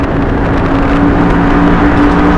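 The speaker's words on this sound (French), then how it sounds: "on est parti pour le test de la VMAX avec la Easy Wheel GT2 mode 3, gâchette pouce à fond" An Isinwheel GT2 electric scooter in mode 3 at full thumb throttle during a top-speed run, a loud, steady roar of wind and motor whine filling the whole moment.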